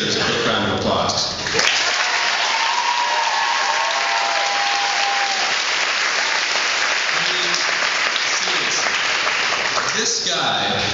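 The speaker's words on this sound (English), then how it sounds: "Now, on the topic of Mr. Delaney, I think he deserves a quick round of applause" Audience round of applause at a school valedictorian ceremony, a dense sustained wash of many hands clapping that fills nearly the whole stretch, with a brief vocal cry near the start and the clapping tapering toward the end.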